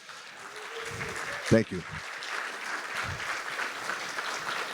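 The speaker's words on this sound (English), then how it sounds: "I think our firefighters should get a round of applause and thanks" Audience applause for firefighters at a community wildfire education night in Orinda, a steady broadband patter of clapping building after a brief spoken thanks and continuing evenly underneath.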